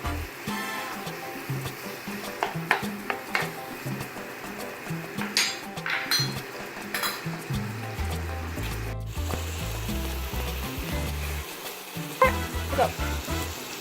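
Vegetables and hot pepper sweating in a hot pan, a steady crackling sizzle running throughout, with a few clattering knocks and low thumps from kitchen handling, and no talking.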